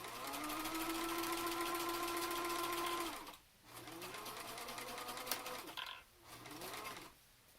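A sewing machine runs in steady bursts while back stitching the edge of a fabric mask, its motor whirring continuously for about three seconds, then pausing and restarting in shorter runs.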